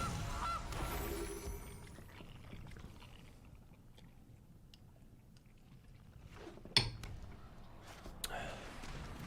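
A goose honk sound effect plays as the Gilded Goose card enters in the MTG Arena card game, with a short, sharp honk over a hissy, noisy game backdrop and a few clicks.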